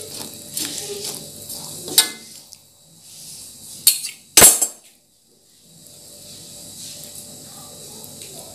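Scraping and clinking of a utensil stirring corn, carrot and eggplant in a pot of coconut-milk vegetable stew, with a few sharp metallic knocks and a soft sizzle in the background.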